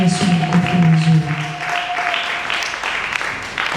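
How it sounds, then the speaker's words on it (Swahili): A church congregation at a five-day seminar applauds; a voice sounds over the opening, then broad sustained clapping carries on alone at a steady level. "Yesu makofi mazuri"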